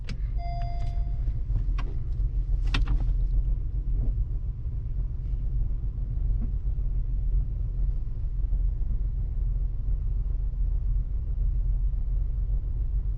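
A Honda V6 engine idles steadily after an oil change, a low even rumble held throughout, with a few brief electric whines and clicks early on.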